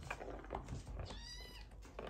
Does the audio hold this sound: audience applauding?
no